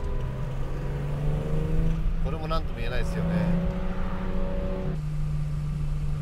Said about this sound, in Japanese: あとそのエンジン本体の、ギアトレーンの音ですよね。